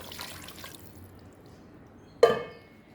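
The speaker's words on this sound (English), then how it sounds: "here it is 2 cups of water." Water goes into a pot of marinated mushroom biryani: one sudden splash that quickly fades, heard alone against a quiet background.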